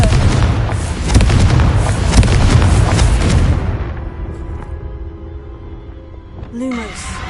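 A Confringo blasting spell explodes in Hogwarts Legacy, a loud booming burst with a dense crackling, rumbling tail that lasts several seconds before fading into quieter ambience, with a brief voice near the end.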